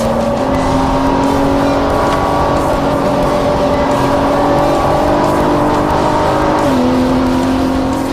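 A Cobb-tuned Nissan GT-R race car drives a fast lap on a circuit, its engine holding a loud, steady drone heard from close by, with a slight drop in pitch near the end.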